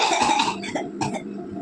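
A patient coughs on request during a doctor's examination: a loud harsh burst of coughs, then two shorter follow-up coughs, close and clear with no talking.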